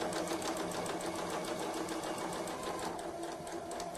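A sewing machine stitches a mitred hem in one continuous, even whir, steady and close with no pauses.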